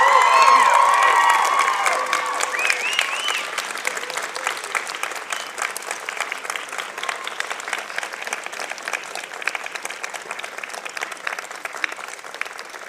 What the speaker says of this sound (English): give a rousing applause and thank you to your parents and your supporters in the audience